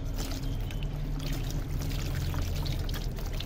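Water poured over a Persian cat during a bath at home, a continuous splashing, gurgling pour running steadily throughout, close and moderately loud without clear speech.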